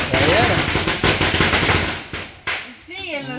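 Firecrackers and rockets going off at a festive street celebration for a patron saint, a dense rapid crackle of bangs for over two seconds, then thinning out as people talk nearby.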